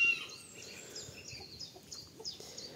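Laying hens cluck and murmur continuously, with several birds chattering together close by and occasional higher calls rising over the flock.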